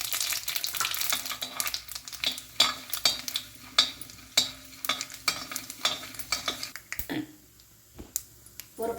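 Cumin, mustard seeds, chana dal and urad dal frying in hot oil, crackling and popping in quick irregular bursts over a soft sizzle, close and fairly quiet, with occasional stirring.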